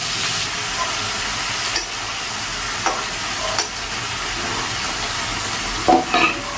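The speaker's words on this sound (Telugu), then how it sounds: "పన్నీర్ తీసుకుంటాను చిన్న ముక్కలు కోసుకున్నాను ఇలా ఫ్రై చేసుకుంటే ఉప్పు కారం ఇంటికి పడుతుంది" Small cut pieces of paneer fry in a pan with a steady, fairly loud sizzle, marked by a few soft stirring knocks and a brief clatter toward the end.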